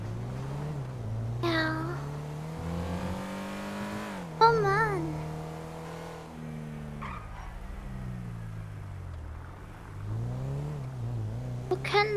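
A car drives along Vinewood Boulevard in the roleplay game Nifty Life 2.0, its engine a steady droning hum that rises and falls with revs and gear changes, while someone talks over it.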